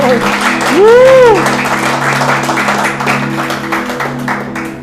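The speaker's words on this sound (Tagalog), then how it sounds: "Minsan pa, malakas na palakpak para kay Lord." A church congregation claps loudly in a welcome service for the new year 2024. The vigorous, sustained applause fills the room, and a rising vocal whoop rings out over it early on.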